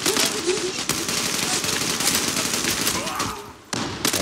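Gunfire in the Zula online shooter game during a sniper fight, dense loud overlapping shots and a noisy battle wash throughout, with a sharp break near the end, voices faintly mixed in.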